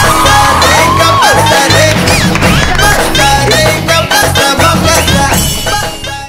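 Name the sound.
applause and cheering for a contest winner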